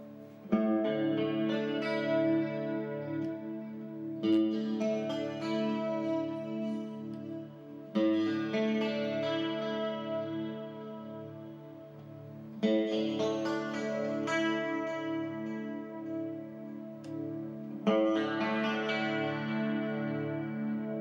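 An electric guitar played through an effects simulator rings out chords with a chorus-like effect, each chord struck and left to sustain, repeating every few seconds.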